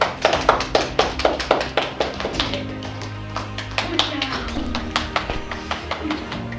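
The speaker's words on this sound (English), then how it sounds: "everyone give yourselves a round of applause" Scattered claps and taps from a small group at a youth game show, uneven and thinning out, over a low steady hum.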